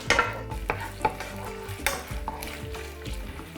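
Strips of ham frying in a pan and being stirred, a close, steady sizzle with repeated scraping and clinking of a utensil against the cookware, alone without any voices.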